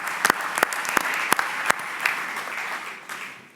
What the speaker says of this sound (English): If we can basically give him a round of applause.